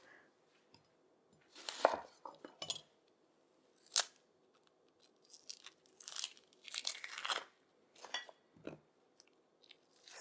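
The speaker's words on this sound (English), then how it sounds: "Next, I have an onion, and I'm just going to cut it into quarters." A knife slicing through an onion on a cutting board while quartering it for falafel, a series of sharp, crisp chops and crunches with short pauses between, close and clear in a quiet kitchen.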